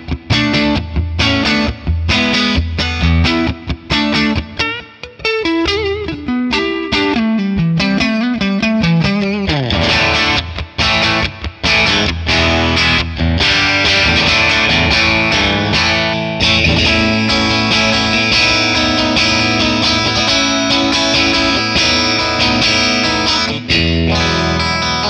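A Stratocaster through a Friedman PLEX amp capture with reverb added, with distorted strummed chords and quick picked runs early on giving way to sustained, ringing chords that blur together, loud and continuous without talking.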